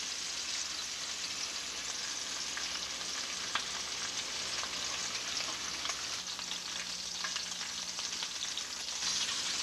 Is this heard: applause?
no